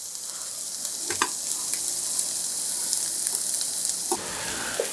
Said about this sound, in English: Pop our garlic right in there.